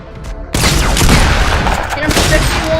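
Gunfire in the video game Fortnite, a loud dense burst that starts abruptly about half a second in and keeps going as sustained rapid shots and impacts to the end, with faint game sound before it.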